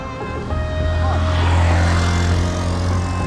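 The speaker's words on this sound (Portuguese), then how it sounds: "Ó a moto, moto." A motorcycle passes on a road along the Caminho da Fé pilgrimage route between Águas da Prata and Ouro Fino, Brazil, its steady engine drone swelling loud and close, then holding as it goes by, with no talking.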